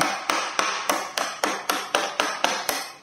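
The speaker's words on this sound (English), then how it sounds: "I'm using a old bolt in there, giving it a few jolly good taps" An old bolt is used as a drift on an InMotion V11 honeycomb pedal, struck about ten times in a steady, evenly spaced rhythm of sharp metallic taps, each with a short ringing decay, close and clear with no talk.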